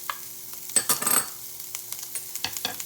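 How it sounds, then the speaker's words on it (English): Diced onion, garlic and ginger hit hot avocado oil with a brief burst of sizzle, followed by quiet crackling and a few light utensil clicks in a calm kitchen. "To that oil, we're going to add our 1 medium onion, diced small."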